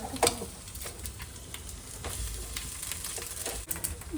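Boiled eggs frying with masala in a home kitchen pan, a steady close sizzle with light stirring scrapes and a few sharp clicks, continuous throughout with no talking.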